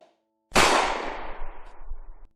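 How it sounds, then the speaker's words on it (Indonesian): A single sharp gunshot cracks loudly after a moment of silence, followed by a long, echoing rumble that slowly fades. "Satu tembakan baru saja dilepaskan Anita, membuat Elsa berteriak ketakutan"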